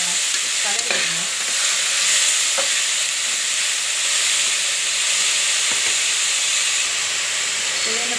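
Banana flower sautés and sizzles loudly in a hot pan, a dense steady hiss with occasional spoon taps and stirring scrapes.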